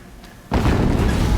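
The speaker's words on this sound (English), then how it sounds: "Another explosion." A single deep boom from an explosion in the Horizon Zero Dawn video game, bursting suddenly after a quiet moment and rumbling on as a loud, sustained low roar.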